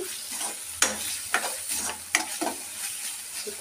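Boiled kabuli chana fry in a pan with soft, steady sizzling, broken by several sharp scraping stirs of a spoon at irregular intervals, close by and with no voices.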